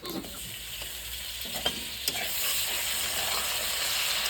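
Sliced onions fry in hot oil with whole garam masala and cumin while chopped raw tomato is stirred in, giving a steady close sizzle with a couple of sharp scraping clicks before the hiss swells slightly louder.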